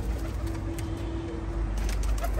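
Soft, low pigeon cooing close by, a drawn-out throaty coo over a steady low background rumble.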